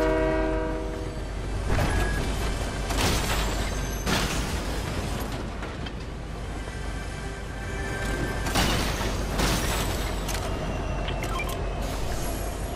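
Train rolling along with a loud horn blasting in Fortnite, a steady rumble and clatter of wheels underneath repeated horn blasts, close and continuous throughout.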